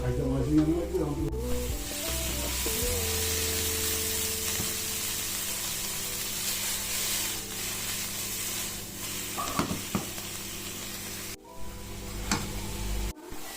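Mixed leafy greens, including garden spinach, frying in a pan, a steady close sizzle with occasional stirring scrapes near the end.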